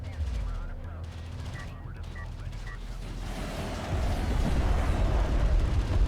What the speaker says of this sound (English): It's railguns, it looks like.